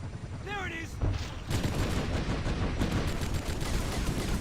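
Automatic Falcon turrets firing in a Halo custom campaign, a sustained burst of rapid gunfire that swells loud after a brief tonal game sound, with voices faintly present underneath.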